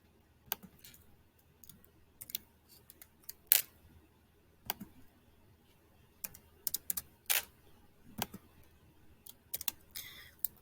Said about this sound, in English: make sure even as I'm typing it in, you're still able to type it in your calculator.